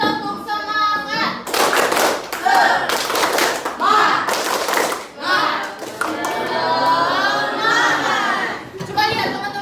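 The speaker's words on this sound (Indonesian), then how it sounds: "Ayo 1, 2, 3. Tepuk semangat." Classroom of children doing a rhythmic spirit clap, sharp bursts of hand claps and thumps in short patterned groups, close and loud, mixed with a teacher's voice and children's voices.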